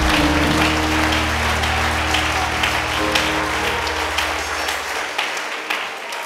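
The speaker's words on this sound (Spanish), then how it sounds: "Bendícelo con un aplauso." A church congregation bursts into loud, sustained applause that fills the room, with scattered claps trailing off over the last second.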